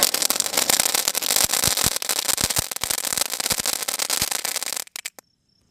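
A smiley-face Diwali firecracker sets off a dense, continuous crackle of rapid pops and bangs, loud and close, lasting nearly five seconds before sputtering out into a few last pops and quiet.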